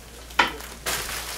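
Rice grains dropped into hot olive oil in a pan for jasmine rice break into a sudden loud sizzle, easing into a steady, moderately loud frying hiss.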